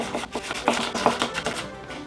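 A knife chops jalapeño on a cutting board in a quick, steady run of close, crisp taps, fairly loud and continuous through the short stretch.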